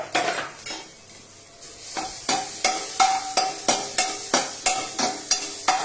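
Ground peas frying in ghee over a low flame, a soft sizzle under regular scraping strokes of a spoon against the pan bottom, roughly one stir every half second, close and moderately loud.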